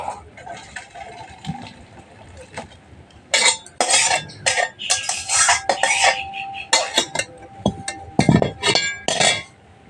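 A sour dish cooked over a clay stove is poured out of a metal pot, with a run of close metallic clinks, scrapes and clatters of the pot and utensils that grow busier midway, with slight liquid sounds.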